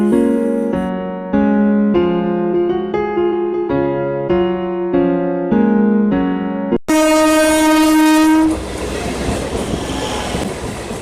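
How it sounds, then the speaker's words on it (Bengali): A train passes near Princep Ghat, a loud rumbling run with rhythmic clatter that swells and shifts midway into a broader roar of rolling wagons, steady and close throughout. "এরপরে আসলো আবার একটা ট্রেন"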